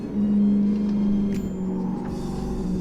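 A Toyota Corolla engine in Euro Truck Simulator 2 accelerates with a steady, close, droning hum that rises slightly in pitch, with no talking.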